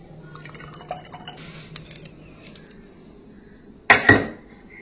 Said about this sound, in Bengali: এর মধ্যে একটু ডাবের জল দিয়ে ঘটিটা ভরে নেব